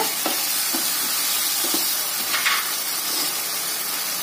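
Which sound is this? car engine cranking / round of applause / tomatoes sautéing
tomatoes sautéing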